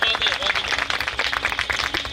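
An audience at a bhajan programme bursts into dense, rapid applause, with voices audible beneath the clapping throughout.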